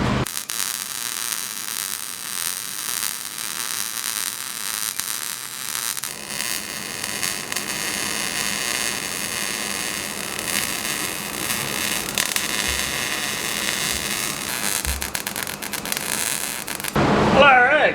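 Arc welding on a swage block stand: a steady crackling, buzzing hiss runs almost unbroken for about seventeen seconds at close range, with a shift in tone partway through and a brief louder burst at the end.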